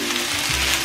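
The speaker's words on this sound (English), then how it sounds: "So this is how I cook the beef." Beef frying in a pan, a close, steady, bright sizzle that fills the whole short moment without any voices.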